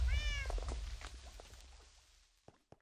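A cat meows in the block-building game Minecraft, with a short rising-and-falling call near the start over low background rumble, followed by quieter scattered game sounds and two brief clicks near the end.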